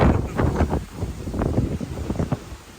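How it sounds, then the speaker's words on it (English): Strong wind buffets the microphone in loud, uneven gusts, roaring and rustling with no voices. "Just look at the wind. It's very windy"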